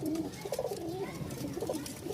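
Pigeons at a sale in Mirpur-1, including a Lahori pair, coo steadily in low, throaty rolling calls, several birds overlapping close by with a soft fluttering murmur underneath.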